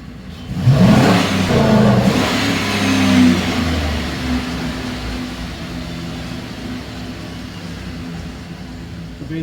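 A GM 5.3-litre V8 in a 2011 truck revs hard to wide open throttle and hits the cutout, a loud surge in the first few seconds that eases back to a steady idle.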